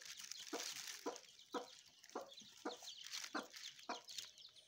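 A hen with chicks hatched two days earlier clucks in a steady series of short, soft calls, about one every half second, fairly faint against a quiet background.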